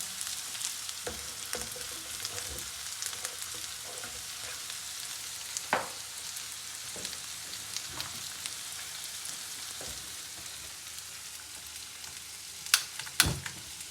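Onions fry in a pan with a steady, close sizzle, broken by occasional sharper crackles and stirring clicks.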